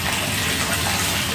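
Water gushes steadily from a tap after a household pump is switched on, a loud, continuous rushing splash with no break and no voices.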